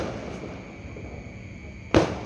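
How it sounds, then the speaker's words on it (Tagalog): A sharp Christmas firework burst cracks once near the end, rising out of a steady low background rumble. "Ayun, yung fireworks"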